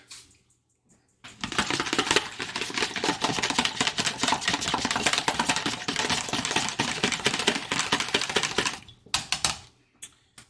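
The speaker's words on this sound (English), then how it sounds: "A little whisk." Garlic paste being whisked in a bowl, a rapid, steady metallic clicking and scraping that starts abruptly, runs for about seven seconds close up, then stops; no voices.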